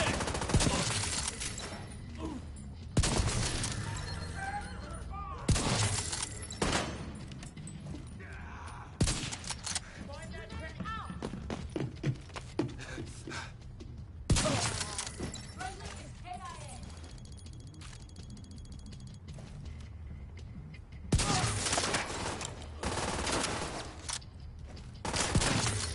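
Rapid bursts of gunfire from the video game The Division 2, loud and dense shots repeating through a long firefight, with a voice talking over parts of it.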